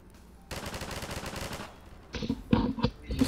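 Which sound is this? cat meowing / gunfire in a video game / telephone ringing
gunfire in a video game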